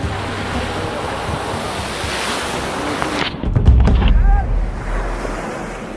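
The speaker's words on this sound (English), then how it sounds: "you will see a different side to Somaliland, the sea." Sea waves on the Somaliland coast, a loud steady wash of surf with heavy wind buffeting the microphone, swelling into a deeper crashing rumble midway.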